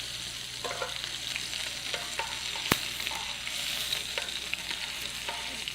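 Meatballs searing in a pan for marinara, a soft, steady sizzle with occasional crackles and the scrape of turning, including one sharp knock partway through.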